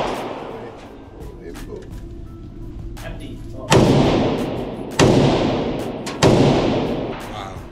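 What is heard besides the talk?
AK rifle gunshots at gun range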